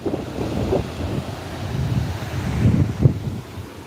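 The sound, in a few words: wind blowing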